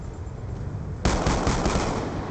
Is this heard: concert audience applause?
no